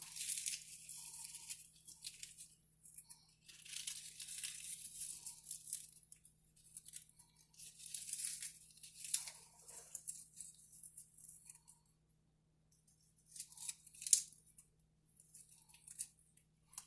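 Soft, dry crunching and crumbling bursts of crunchy bacon being crumbled come in irregular clusters, fairly close and quiet, with brief pauses between handfuls.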